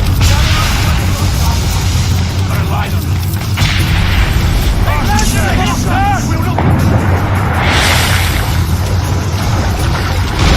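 Mortar fire in Assassin's Creed Rogue booms during a naval battle, loud blasts mixed into heavy ship and water noise with voices shouting over it.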